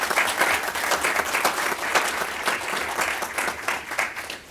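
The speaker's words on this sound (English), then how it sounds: "So would y'all please give Jerry a round of applause." Dense applause from a meeting audience fills the room, fairly loud and steady, fading slightly toward the end with no voices over it.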